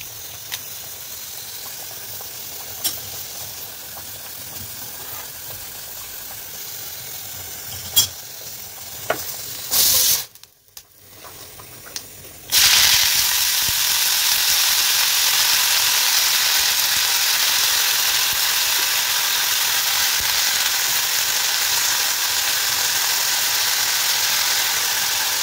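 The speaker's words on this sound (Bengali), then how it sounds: "তো চলো সর্ষের তেল দিয়ে শাক ভাজাটাকে" Leafy greens hit hot mustard oil in a wok, giving a loud, steady hiss and sizzle that swells sharply after a brief quiet pause and then holds evenly, preceded by lighter stirring and a few clinks.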